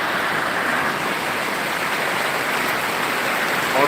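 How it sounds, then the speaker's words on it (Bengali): Heavy rain pours down in Sirajganj after a heat wave, a dense, steady hiss of falling water filling the scene with no talking. "একটু দর্শকদের একটু দেখাচ্ছি বৃষ্টি হচ্ছে"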